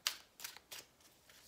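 Tarot and Lenormand cards shuffled by hand in three or four quick, crisp riffling bursts with short pauses between, fairly close and faint, with no talking.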